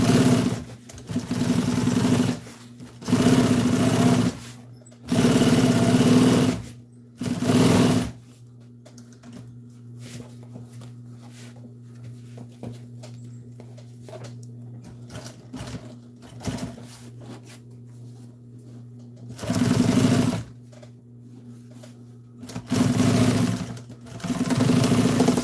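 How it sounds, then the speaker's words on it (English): Sewing machine top-stitching an old military jeep seat cover with green thread, running in several loud bursts of steady mechanical whirring separated by quiet pauses, with no talking. "What I'm gonna do is I'm gonna sew this right here"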